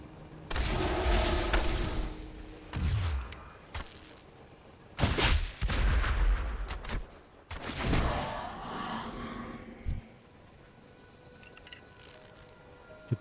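Bursts of Rapid Fire ability gunshots from a hunter in World of Warcraft near Dun Garok, coming in several loud clusters with quieter gaps between.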